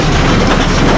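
A train passes very close and loud on the rails as a dense, continuous rumble and rattle of wagons, filling the short moment without any voices.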